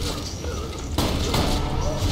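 A Borderlands 2 video game explosion lands as a sudden heavy blast about halfway through, cutting into ongoing gunfire and game noise, with a voice faintly underneath.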